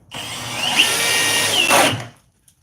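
A Milwaukee or Flex cordless drill bores into wood at full trigger for about two seconds, a loud steady whine with a brief pitch shift midway, then stops abruptly.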